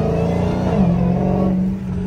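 A Dodge Hellcat Redeye V8 with its air intake removed, heard from inside while driving, gives a loud, steady engine drone with a rising supercharger whine that holds throughout.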